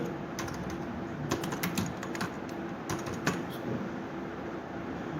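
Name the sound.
typing on a computer keyboard filling a registration form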